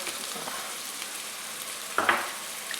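Softened vegetables with garlic, oregano and coriander sizzle in a pot for green chile stew, a steady close frying hiss broken by a short clink of a stirring spoon near the end.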